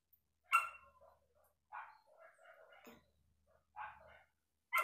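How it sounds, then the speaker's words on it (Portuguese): Dogs bark in several sharp bursts separated by short pauses, fairly close and clear with no talking over them. "Ai, cachorros, por favor."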